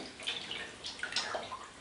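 Fabric dyed with onion skins is swished and rinsed in a basin of water, producing soft splashing and gurgling with a few brief sloshes close by.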